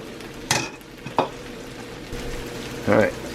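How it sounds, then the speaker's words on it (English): Eggs scramble in a hot pan for beef fried rice under a low background sizzle, with a few scraping stirs and clatters of the utensil against the pan. "so the eggs are scrambled up nicely, or starting to"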